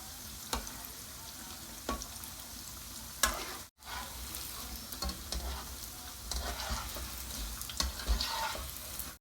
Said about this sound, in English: Deep fry tofu to the golden color and